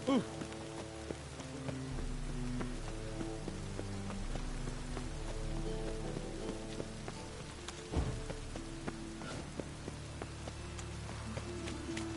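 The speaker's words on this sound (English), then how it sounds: "And it's raining again." Soft rain patters steadily on a surface in The Witcher 3, faint and continuous, beneath a low musical background with a brief thud partway through.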